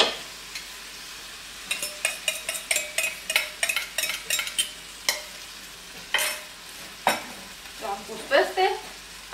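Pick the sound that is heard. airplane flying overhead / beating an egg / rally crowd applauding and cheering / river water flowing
beating an egg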